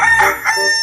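A rooster crowing loudly and close, one short harsh cock-a-doodle-doo with a rising and falling call, heard alone.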